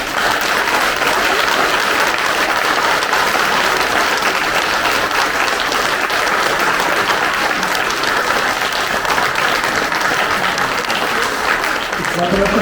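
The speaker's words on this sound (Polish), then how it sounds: "Jeszcze raz ogromne brawa dla Was." Audience applause in a theatre, dense and loud continuous clapping from many hands that holds steady for the whole stretch.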